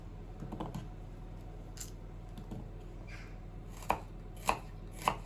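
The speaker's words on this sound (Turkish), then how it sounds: "Soğanlarımızı da piyazlık doğrayacağız." A knife chopping onions on a board, with light scattered taps at first and then three louder, evenly spaced chops near the end.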